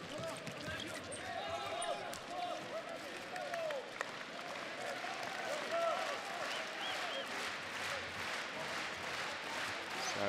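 A handball arena crowd at a EURO 2014 Austria vs Spain main-round match roars steadily, cheering on the underdogs in a 14,000-seat hall, a dense distant wash with a commentator's voice on top.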